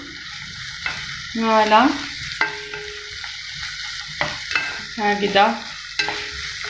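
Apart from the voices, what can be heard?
peppers and garlic frying and being stirred in a pot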